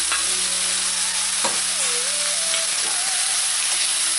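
Aubergine pieces hitting a hot pan for a braised spicy dish, breaking into a loud, dense sizzle that holds steady, with a few clanks of stirring and a faint tonal whine in the background; no one speaks.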